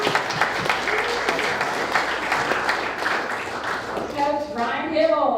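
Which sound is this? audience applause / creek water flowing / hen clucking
audience applause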